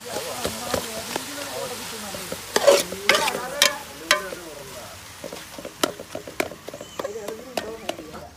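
Egg roast is stirred in a pan at a cooking spot near Anakulam in Kerala, giving irregular scraping clatters and a soft sizzle, while people talk nearby.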